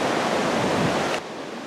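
Potato River Falls roars close by, a steady, dense rush of flowing water with no voices, cut abruptly to a slightly quieter wash near the end.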